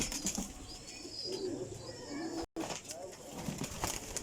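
Golden flying pigeons coo softly in low, murmuring tones amid a noisy, rustling background, with a voice talking over them.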